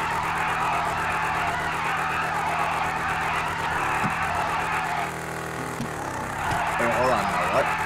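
A Rat-Truck in GTA 5 drones with a steady engine under a constant tire skid hiss, its pitch sweeping briefly near the end, while a person talks over it.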